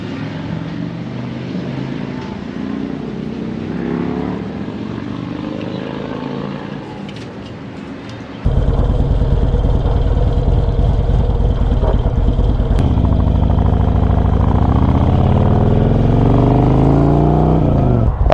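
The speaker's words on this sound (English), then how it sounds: "we've been sitting here watching motorcycles go back and forth all day" Motorcycles pass on a riverside road. A distant engine drone is followed by a loud, close, steady engine roar that begins suddenly partway through and continues to the end.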